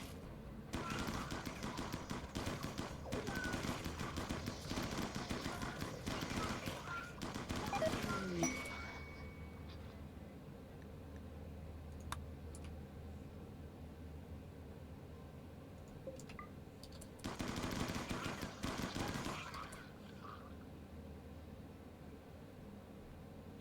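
Rapid gunfire in a colony-building video game strikes a wall in long, dense bursts, first for about nine seconds and then again briefly later, with quieter game ambience in between.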